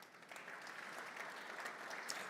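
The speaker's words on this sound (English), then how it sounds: "That also deserves applause." An audience claps at a Georgia PGA awards banquet, a dense, even wash of applause from many hands, fairly faint and held steady throughout.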